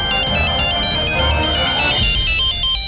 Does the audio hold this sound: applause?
no